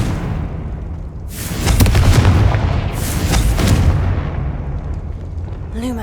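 Fiery Confringo spell blasts in Hogwarts Legacy, a loud booming explosion swelling around two seconds in and rolling on, then a second burst, with crackling debris and a brief rising whoosh at the end.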